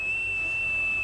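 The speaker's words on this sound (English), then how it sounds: "you all hear this very loud whistle" A loud, steady two-fingered cowboy whistle holds one high sustained pitch for about a second, clear and unbroken, with no talking over it.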